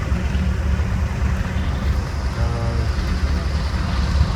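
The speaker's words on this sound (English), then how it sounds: "Next through the gate is a 1941 Ford 9N." A 1941 Ford 9N vintage tractor rolls along in a parade at a threshermen's show, its low engine rumble loud and steady with outdoor wind noise throughout.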